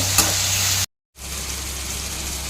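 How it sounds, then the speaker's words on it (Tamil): Close, steady sizzling of tomatoes sautéing in hot oil, briefly cut to silence midway before the crackle and hiss resume, with no talking. "அதையும் சேர்த்து நல்லா வதங்கணும்."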